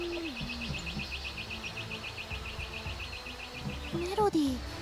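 Birds chirp in a rapid repeating trill within a Shadow Tactics: Blades of the Shogun game scene, moderately loud over soft ambience, with a few swooping tones near the end.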